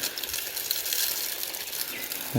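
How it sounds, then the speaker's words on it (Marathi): Water gushes through a farm irrigation pipe valve on an early-morning field, a steady broadband rush held for a couple of seconds with no pause, ending in a louder low thump. "आता पाणी जाईल फटाफट"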